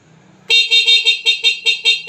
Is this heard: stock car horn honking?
yes